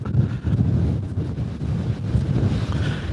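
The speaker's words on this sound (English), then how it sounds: "hopefully you can hear me, it's a bit windy." Wind buffets an outdoor microphone in steady, loud gusts, with low rumbling rising and falling continuously throughout and no voice on top.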